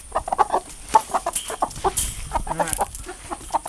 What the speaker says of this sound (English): these are the chickens that we kept from the meat birds that we raised